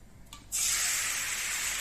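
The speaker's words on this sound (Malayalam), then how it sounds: "ഞാൻ ശർക്കര ഉരുക്കി വെച്ചിട്ടുണ്ട് അപ്പം നമുക്ക് ഇങ്ങോട്ട് ഒരു പാനിലോട്ട് ഒഴിച്ചു കൊടുക്കാം" Melted jaggery syrup for peanut candy is poured into a pan, setting off a sudden loud, steady hiss and sizzle about half a second in that carries on evenly to the end, with no talking.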